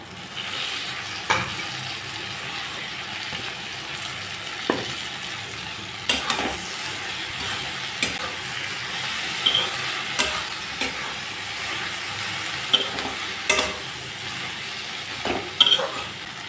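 Taro stolons with turmeric fry in a pan with dried fish, a constant hissing sizzle broken by sharp spatula knocks and scrapes at irregular intervals.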